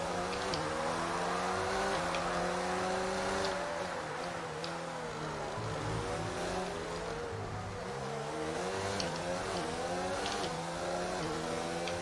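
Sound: F1 race car engine in video game F1 2019

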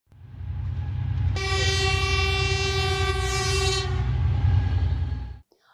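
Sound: train running with horn, sound effect

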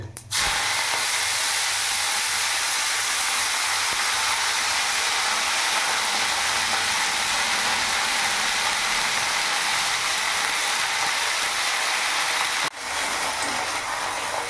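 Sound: fenugreek leaves added to hot oil, sizzling in the pan

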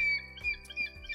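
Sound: birds chirping

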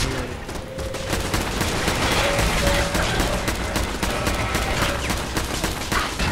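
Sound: gunfire from the video game Fallout 4 Automatron

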